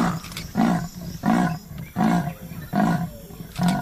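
A tiger roaring at night in Jim Corbett, a series of about six rhythmic, deep roaring grunts in steady succession, moderately close and alone without talk.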